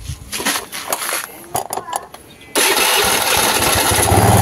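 A carbureted Honda Vario 110 scooter engine cranks and then starts, settling into a loud, steady idle after some clinking and rattling from the repair beforehand.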